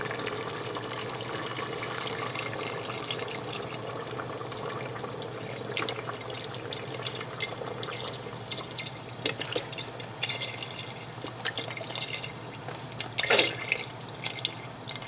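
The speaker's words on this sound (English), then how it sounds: "you can add your 8 cups of vegetable broth" Vegetable broth, about eight cups, pours steadily into a soup pot for tortellini soup, giving a continuous close splashing, trickling wash of liquid that runs throughout without talk.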